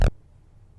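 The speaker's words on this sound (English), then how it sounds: "And I got bass hit." A bass hit sample in a trap-pop beat, a single short punchy hit with a sharp attack that cuts off almost at once, leaving near silence.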